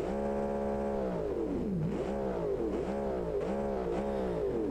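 A loud 4.0-litre V8 engine with no exhaust pipes or mufflers blips its throttle repeatedly, pitch swooping up and down in quick revs over a deep idle rumble, close by.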